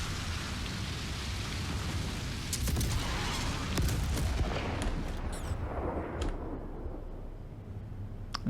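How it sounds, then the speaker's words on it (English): A missile launching from a Drake Corsair ship in Star Citizen, a dense roaring rumble with sharp crackling bursts building midway, then a hissing whoosh that thins out toward the end, loud and continuous with no talking. "It'll basically launch the missile and then, in fact, we can see it launching"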